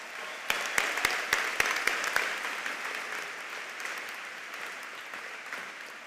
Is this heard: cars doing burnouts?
no